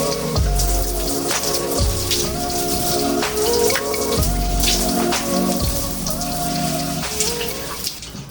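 Water rinses conditioner out of curly hair, a steady splashing spray with pulsing low thumps as the stream hits the head and hands, close and continuous with no voices.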